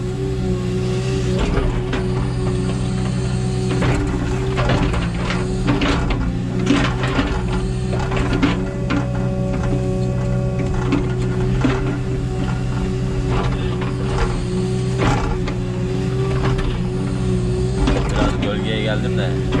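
A mini excavator runs its tracks back and forth to pack down a new dirt road, with a steady diesel drone, hydraulic whine and track clanks throughout as someone talks over the machine.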